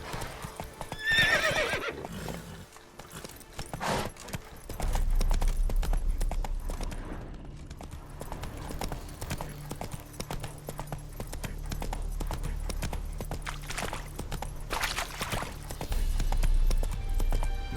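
Roach, Geralt's horse in The Witcher 3: Wild Hunt, gallops with steady clip-clop hoofbeats and gives a whinny near the start, all set against game ambience and continuing for the whole stretch.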